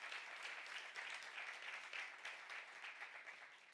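A church congregation at a youth service claps in a steady, sustained round at moderate distance, even and unbroken throughout.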